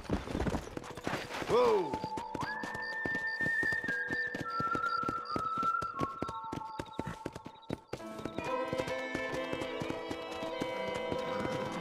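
Horse hooves clip-clop in the Red Dead Redemption video game, a rhythmic trot under occasional spoken words, with a whinny early on and tonal game music in the background.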